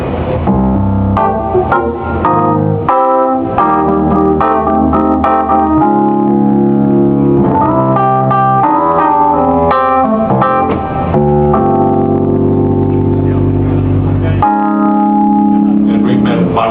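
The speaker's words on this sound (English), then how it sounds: "I didn't play the Wurlitzer earlier, so I should probably just touch on that a little bit" Wurlitzer electric piano chords and melody play steadily with a warm, bell-like tone, continuous and fairly loud, with no voices.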